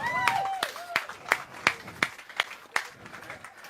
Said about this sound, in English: Give Joe a big round of applause.